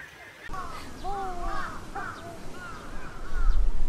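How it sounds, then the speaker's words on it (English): Several crows cawing in Tokyo, harsh repeated calls overlapping close by over street ambience, with people talking nearby. "There's so many crows."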